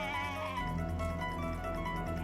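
A lamb's drawn-out, wavering bleat, loud and close, with strained tremulous harmonics that sound eerie, over a steady low rumble.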